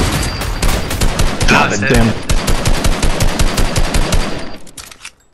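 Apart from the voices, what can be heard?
gunfire in a shooter video game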